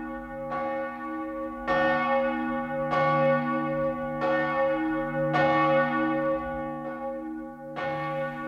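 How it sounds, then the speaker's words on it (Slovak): The Liberty Bell in Philadelphia rings in an archival recording, with about seven slow, evenly spaced strikes whose resonant tones overlap and hum between blows. "Vo Filadelfii sa rozozvučal americký zvon slobody."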